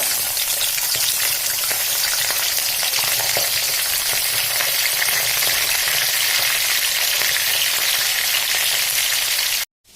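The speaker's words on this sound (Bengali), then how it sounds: "তেলটা গরম হয়ে গেছে, এখন দিয়ে দিচ্ছি আমি আলুটা" Potato pieces frying in hot oil for a chicken curry, a loud, dense, continuous sizzle and crackle close by, with no talk, cutting off abruptly at the end.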